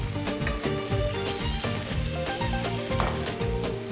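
Garlic and pepper sizzle in a pan of spaghetti with squid, a close crackling hiss mixed with bright clinks and tones, busy and continuous.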